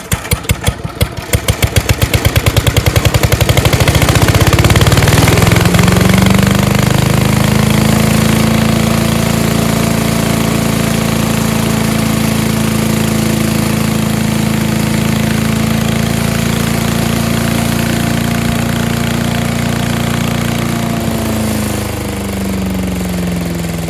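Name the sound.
Craftsman 5HP Briggs wood chipper leaf shredder engine running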